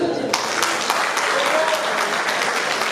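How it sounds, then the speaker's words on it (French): Audience applause for Monsieur Bolessaro at a CORÉDIA 50th anniversary gathering, a steady wash of clapping with a few sharper claps, and a voice briefly rising over it. "Monsieur Bolessaro, vous pouvez l'applaudir."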